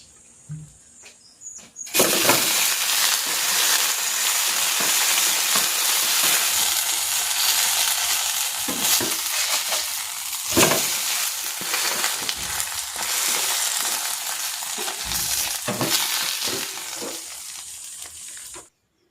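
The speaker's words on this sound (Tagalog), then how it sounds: "ipapan-grill ko yung chicken para mas masarap" Chicken adobo searing in a hot pan, with a loud, steady sizzle and crackle that starts abruptly and continues throughout, broken by occasional scraping and stirring.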